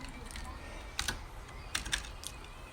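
Keys tapped on a computer keyboard, a few light clicks in small clusters over a steady background hiss, with no voice.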